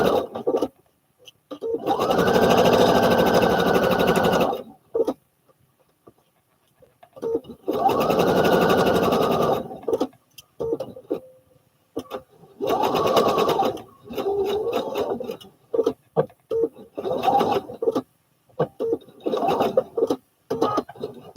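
A sewing machine set to needle down stitches McCall's 7464 overalls in several close bursts of rapid whirring separated by pauses, with shorter runs toward the end.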